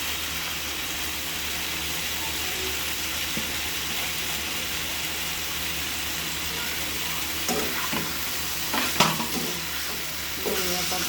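Winter vegetables and coriander leaves fry in a pan with a steady, dense sizzle, while a spatula scrapes and clacks against the pan in a few louder strokes near the end.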